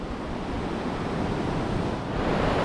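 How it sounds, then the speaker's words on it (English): Strong wind on New Smyrna Beach during surf fishing, a loud steady roar of gusts buffeting the microphone, blended with crashing surf, continuous and swelling slightly toward the end. "It's so windy, we got to put the umbrella up."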